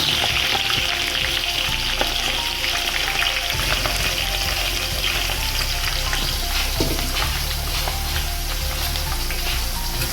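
Cabbage and peas fry with cumin in a pan for khichdi, giving a steady, close sizzle with soft stirring scrapes throughout and no voices.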